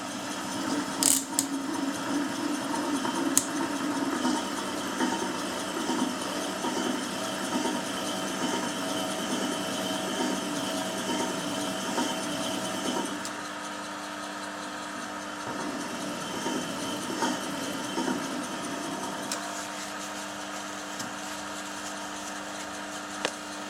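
A lapidary quill spins steadily while a gemstone is pre-polished on a DVD disc with toothpaste and 3000 diamond grit, a continuous mechanical whirring hum with light ticking, its tone shifting partway through, close and alone.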